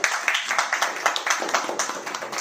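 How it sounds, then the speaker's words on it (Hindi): A church congregation at an Indian Christian service claps hands in a steady, even rhythm of quick repeated claps, moderately loud and sustained, with a voice faintly heard underneath. "ताली बजा देना।"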